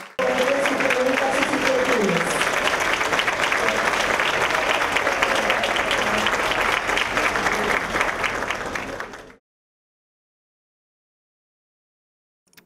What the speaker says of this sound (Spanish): Gracias, Bienvenido, un fuerte aplauso.